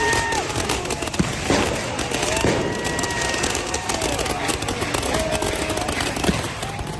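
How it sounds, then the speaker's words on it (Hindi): Scattered bangs and crackles of fireworks, fired by protesters toward police, pop amid a noisy crowd with shouting voices, continuous and chaotic throughout. "प्रदर्शनकारियों ने पुलिस की तरफ आतिशबाजी कर दी।"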